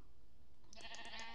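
A single sheep in Minecraft lets out one short wavering bleat, moderately loud, after a quiet moment of low background rumble, with no voices.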